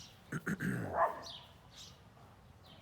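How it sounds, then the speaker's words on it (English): Dog barks a few times in a yard, guarding against cats in neighbouring yards; two or three sharp close barks early on, followed by quieter yips and faint bird-like chirps in a quiet outdoor setting. "There are cats in the yards around me, and my fearless dog is protecting me from them."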